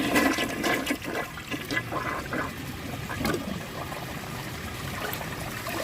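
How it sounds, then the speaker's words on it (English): A 1998 Kohler Wellworth Ingenium toilet flushes after its rim holes were cleaned with a wire, a loud close gush of water that settles into a steady swirling drain and trickle. "So I'm going to give it a flush and be sure all that stuff comes out."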